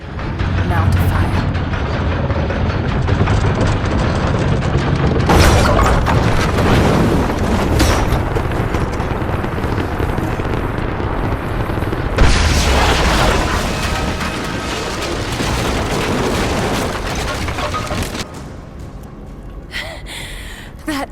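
Heavy booms erupt as an explosion breaks down a gate in the Rise of the Tomb Raider video game, set within a dense, continuous wash of loud rumbling game sound with several sharp bursts.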